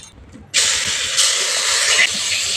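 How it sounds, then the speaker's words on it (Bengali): Chicken pieces hit melted butter in a hot pan for chicken soup, setting off a sudden loud hiss that stays strong and close after a quiet start. "বাটারটা খুব সুন্দরভাবে মেল্ট হয়ে গেছে আমি চিকেনের পিসগুলো দিয়ে দিচ্ছি"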